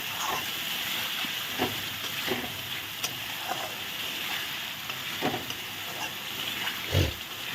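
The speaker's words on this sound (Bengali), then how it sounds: "একসঙ্গে মশলা কষিয়ে নিচ্ছি মশলাটা সুন্দর করে কষিয়ে নিচ্ছি" Spice paste with sour yogurt and chillies frying in a pan for doi katla, a steady close hiss and sizzle with a few soft stirring scrapes scattered through, no voices.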